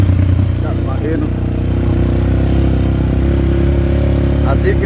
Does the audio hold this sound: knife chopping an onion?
no